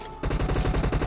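Rapid automatic gunfire from a shooter video game, a burst of evenly spaced loud shots in fast rhythm that starts abruptly after a brief quiet moment and continues to the end.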